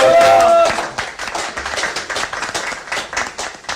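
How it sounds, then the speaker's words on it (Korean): An audience at a Seoul campaign rally in Dongjak gives a round of applause, quick scattered claps rising after a brief voice at the start and continuing steadily and fairly close. "선생님들 큰 박수 주시고"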